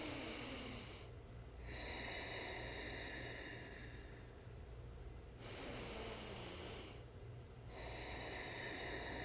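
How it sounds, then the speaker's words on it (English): Slow, deep ocean-like breathing during a core-strengthening breathwork exercise, with two long airy exhales swelling and fading in a steady rhythm, soft and close. "keeping that ocean wavy sounding breath"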